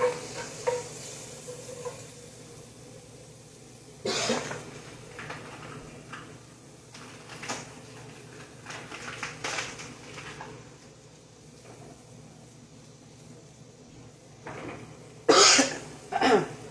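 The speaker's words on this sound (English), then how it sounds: "the habanero got me coughing over here" A few sharp coughs brought on by habanero pepper break out close by, scattered among quieter stir-fry cooking sounds, with one loud burst near the end.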